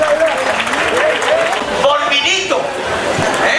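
An audience at a Spanish town fair applauds steadily and loudly throughout, while an announcer's amplified voice carries over the clapping.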